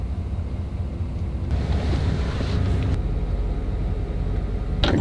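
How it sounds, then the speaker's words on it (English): A van driving over sand, a loud steady rumbling roar of engine and tires with wind buffeting, rising slightly partway through and holding to the end. "We're driving on sand."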